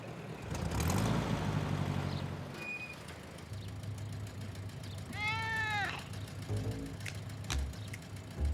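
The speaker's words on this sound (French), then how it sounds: "Tu es un vilain chat, Gilbert." A cartoon cat meows once in a rising, wavering cry midway through, over a noisy background with rumbling and scattered clatter.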